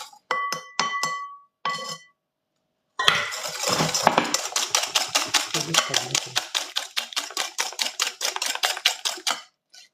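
Chocolate cake batter is whisked by hand in a bowl: a few light clinks, a pause, then a fast steady run of sharp metallic taps as the whisk beats against the sides.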